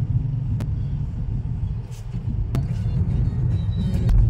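Moving traffic on a street, a steady low rumble of passing cars and other vehicles close by, with a few sharp clicks and knocks cutting through, no talking.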